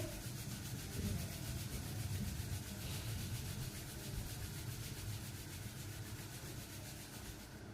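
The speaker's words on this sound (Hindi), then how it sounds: "हाथों को आपस में रगड़ेंगे।" Palms rub together in a continuous, soft, dry friction that stays even and close for several seconds, with no voice over it.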